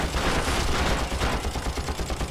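Dense, continuous bursts of rapid gunfire with loud, crackling shots overlapping throughout, a sustained firefight in the video game Far Cry co-op.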